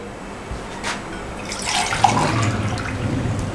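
Water pours into a pot of beef stew being cooked, a steady rushing splash that builds in the second half, with no talk over it.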